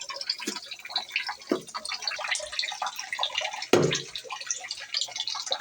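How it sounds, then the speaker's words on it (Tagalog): Boiled water is poured into a cooking pot for chicken soup, a busy splashing and bubbling pour with dripping and sloshing throughout, fairly close, with no voices. "Kumulo na yung tubig ko na binuhos."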